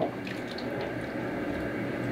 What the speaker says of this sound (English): here's my second pour.